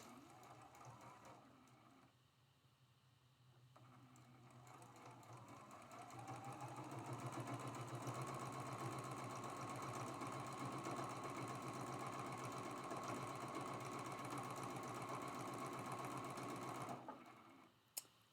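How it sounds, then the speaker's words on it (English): A sewing machine runs steadily and evenly while stitching a seam on a rail fence quilt block, faint at first and then humming continuously for about ten seconds before stopping. "We're going to go ahead and sew this first seam."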